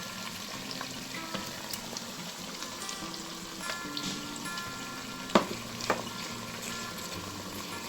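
Tomatoes fry with black turtle beans in a pan, making a steady low sizzle and crackle. A few sharp clinks and scrapes of stirring break through near the end, and no one speaks.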